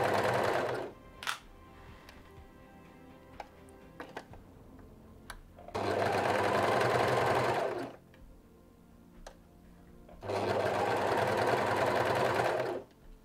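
Domestic sewing machine stitching the rounded shoulder seam of a knit sweater, in three loud sustained runs separated by pauses with small clicks as the fabric is repositioned.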